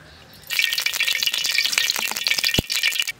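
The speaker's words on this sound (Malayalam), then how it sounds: "എണ്ണ ചൂടായിട്ടുണ്ട്, ഇഞ്ചി വറക്കാനായിട്ട് ഇടുകയാണ്." Ginger fries in hot sesame oil in an uruli, a traditional Kerala cooking vessel. It starts as a sudden loud sizzle that keeps crackling and spitting, with a sharp knock of a utensil partway through.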